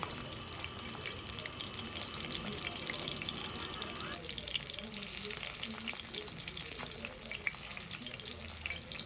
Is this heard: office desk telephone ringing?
no